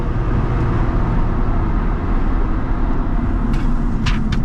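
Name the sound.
Chevrolet Corvette C5 V8 engine driving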